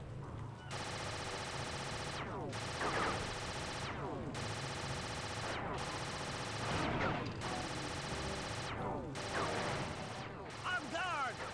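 A turret in the video game Sly 2: Band of Thieves fires in long sustained bursts of rapid gunfire, about five stretches separated by short pauses, with a voice talking over the shooting.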